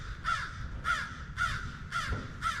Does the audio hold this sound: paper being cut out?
no